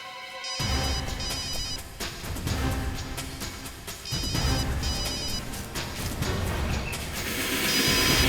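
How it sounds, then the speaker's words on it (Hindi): A mobile phone rings out in a crime-drama scene, a steady repeating electronic ringtone pattern running loudly for several seconds over a busy background without speech. "दया का फोन बज रहा है।"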